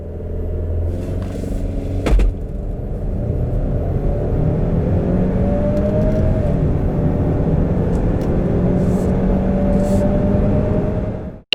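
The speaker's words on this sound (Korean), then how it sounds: "자, 우선 여기서 발진 가속 성능부터 한번 볼까요?" A Land Rover Discovery Sport accelerating from a standstill: a loud, steady engine rumble rising in pitch through the gears, heard close and continuous for about eleven seconds with no talk.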